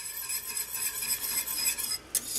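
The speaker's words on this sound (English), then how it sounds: "Turn it off, give it a final stir." Turkey gravy stirred in a pot, a short close scraping swirl of a utensil against the pot with a clink near the end, no voices.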